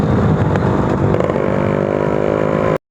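A Yamaha RX two-stroke motorcycle engine runs loud and close, a steady buzzing drone that rises slightly in pitch as it revs, then cuts off abruptly near the end.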